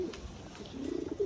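A pigeon being kept apart while recovering from illness coos close by in a few soft, low, throaty notes, with no talk.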